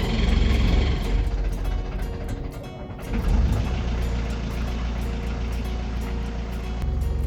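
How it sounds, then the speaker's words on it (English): A boat's engine idles steadily at a marina right after starting up, a continuous low, throbbing mechanical drone with a brief dip in the middle before it settles back to an even rumble. "the engine actually started up without much coaxing"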